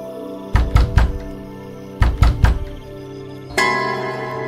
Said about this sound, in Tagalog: Tuwing gabi, may 3 katok pa rin ako naririnig.